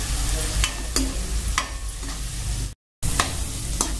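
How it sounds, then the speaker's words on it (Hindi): Onion, tomato and spice masala frying in a pan and stirred, a steady sizzle broken by repeated scraping strokes of the spoon, close and fairly loud, with a brief silent gap near the end and no talk. "इसको भी 1 मिनट के लिए अच्छे से चलाते हुए भून लेंगे, और इतना भूनेंगे जब तक हल्का सा तेल न छोड़ दे"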